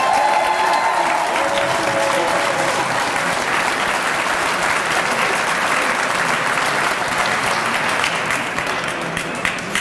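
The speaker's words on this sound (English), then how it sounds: "Give yourselves a round of applause" A rally crowd at a capitol gathering claps and cheers in loud, sustained applause that fills all ten seconds, dense and unbroken with a faint wash of crowd voices.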